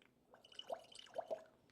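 A pet bird mimics dripping water with a few soft, close plinks and blips spaced unevenly, quiet against a near-silent room.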